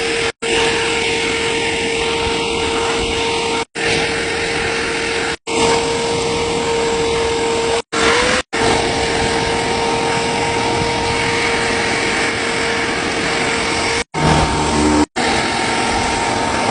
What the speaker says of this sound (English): just going to shop vacuum up as much as we can